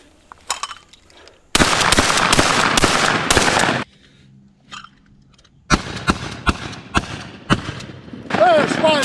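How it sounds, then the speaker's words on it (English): Browning BPS pump-action shotgun firing at five clay targets, with bursts of loud sharp shots and pump racking, broken by short quiet gaps and a low hum, plus some voice in the background. "Let's do 5 clays with a pump shotgun with the Browning"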